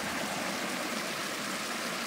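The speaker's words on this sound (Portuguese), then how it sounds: "E esse barulho, Davi, aqui tem uma queda d'água. Forma aqui uma pequena cachoeira aqui, ó." A small waterfall on a rural property in Pinhalzinho, São Paulo, gives off a steady, full rushing of flowing water that fills the whole clip without pause, close by and even in level, with no voices.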